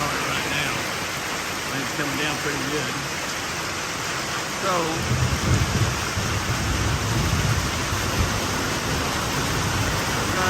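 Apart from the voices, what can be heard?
heavy rain pouring down during a storm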